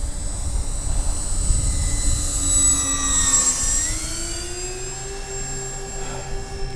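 A Avios BushMule V2 RC model airplane takes off from snow, its engine a steady high whine that rises and sweeps in pitch as it climbs away, loud and continuous with no talking.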